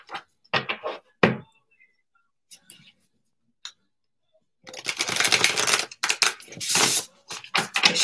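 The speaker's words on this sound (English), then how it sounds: "I'm going to shuffle them" A brand-new deck of playing cards is shuffled close by: a few sharp handling taps first, then dense, crisp riffling bursts that run almost continuously through the second half.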